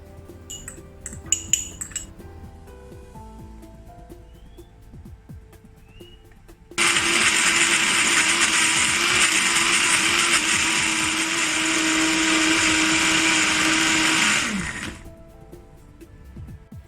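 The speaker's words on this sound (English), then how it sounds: "Blend them into a paste with the help of some cooking oil." A kitchen blender purees turmeric and aromatics with cooking oil into a spice paste for Indonesian soto ayam. A few light clinks come first, then a loud, steady whir runs for about eight seconds and stops.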